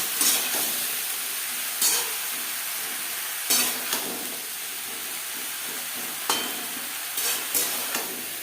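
Spring onion stalks with green chilli and tomato are stirred in a hot pan, with a steady sizzling hiss broken by repeated scraping strokes of the spatula, close and alone.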